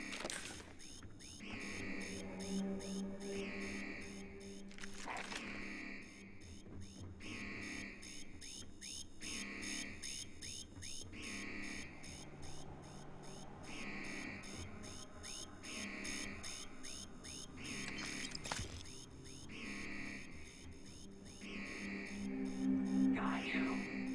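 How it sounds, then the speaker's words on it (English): An alarm in the video game Starfield repeats at regular intervals, a faint electronic beeping pulse over a steady low hum, with occasional soft speech. "That's for sounding the alarm."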